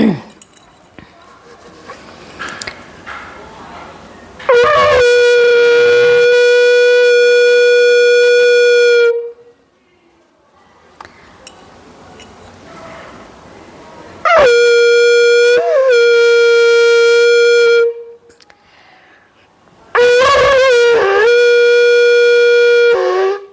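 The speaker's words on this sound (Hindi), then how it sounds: "चलिए मैं भी एक बार शंख बजाती हूँ।" A conch shell (shankh) blown three times during home puja, each a long loud steady horn-like blast of several seconds separated by pauses, with someone speaking and faint clinking of dishes in between.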